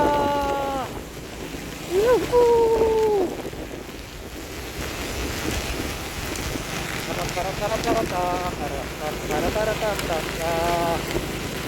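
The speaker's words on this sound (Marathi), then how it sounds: "अरे भयंकर पाऊस आहे हा" Dense, steady rainfall hisses continuously, with intermittent whistling tones and muffled talk underneath.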